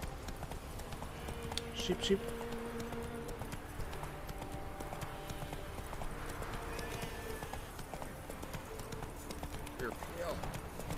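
A horse in The Witcher 3 moves under its rider with a rhythmic clip-clop of hooves and an occasional whinny, set against game ambience and music while someone talks over it.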